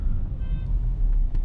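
A Renault Clio 3 with a 1.2 engine and automatic gearbox pulls uphill in second gear, heard from inside the car as a steady, loud, low engine drone and rumble with a brief whine, and no speech.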